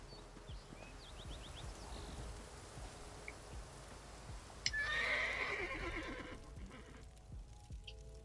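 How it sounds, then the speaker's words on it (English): In the video game Elder Scrolls Online, a horse lets out a loud whinny midway, surrounded by soft hoof clip-clops and a light rain-like patter. "I acquired horses to speed us on our journey"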